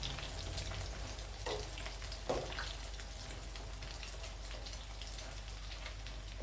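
Riceberry rice balls dipped in chicken egg deep-fry in hot oil with a constant soft crackling hiss and a couple of faint taps, heard alone at low volume.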